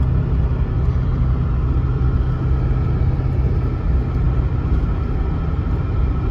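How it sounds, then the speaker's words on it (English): A 1983 Porsche 928S Euro with a smooth manual shift cruises along, its engine and road rumble forming a dense, steady low roar from inside the cabin with no talking. "Here we go for a ride in the 83 928S Euro"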